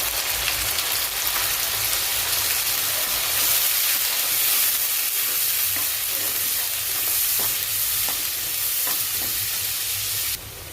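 Onion, garlic and coriander paste frying in a pan while being stirred, a steady loud sizzle with scraping stirring strokes running throughout, close and continuous, no speech.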